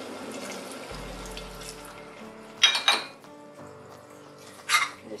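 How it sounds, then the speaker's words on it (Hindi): Water poured into a cooking pan of veg biryani, a brief splash and gurgle early on, then two sharp sizzling bursts and another hiss near the end over low background hum. "अभी मैं थोड़ा सा पानी डालती हूँ।"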